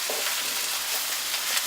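Onions sizzle and fry in a pan for a vegan zucchini potato tomato casserole, a steady close hiss with small crackling pops and no talking.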